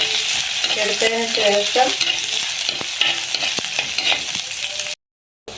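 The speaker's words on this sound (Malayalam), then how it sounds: "ചെറിയ ഉള്ളി വട്ടത്തിൽ അരിഞ്ഞത്, എല്ലാം കൂടി നമുക്ക് ഒന്ന് വഴറ്റി" Thinly sliced shallots and curry leaves being sautéed for a Kerala banana flower stir fry, with a loud continuous sizzle and repeated scraping stirs in the pan, then a brief word spoken before a sudden cutoff.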